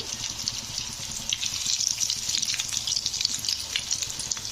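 Steady crackling sizzle of vegetable cutlets frying in a hot pan, continuous and close, with light scraping of flipping underneath and no talk.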